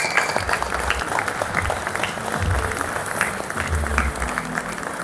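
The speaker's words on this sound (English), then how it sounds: "So big round of applause to Giants for making this happen." An audience at the Lamma 24 agricultural show applauds Giants during a Farming Simulator content creators Q&A, a continuous busy wash of clapping with crowd murmur throughout.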